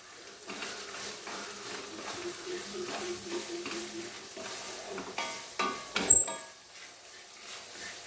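A spoon stirs chura (tuna) pickle frying in a pan, making a rhythmic run of close scraping strokes over a faint sizzle, ending in a sharper clatter before things quiet down.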